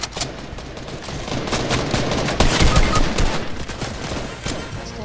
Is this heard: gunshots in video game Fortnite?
yes